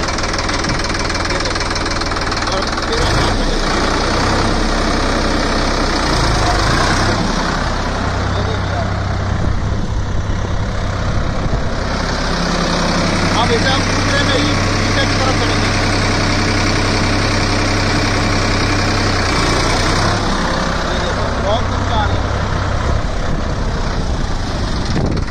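A Sonalika 745 III tractor engine runs in second gear, high range, a steady loud mid-pitched diesel drone with knocking pulses and vibration throughout, close and continuous with some background noise.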